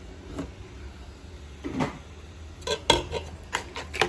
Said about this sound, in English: Mix all of our ingredients together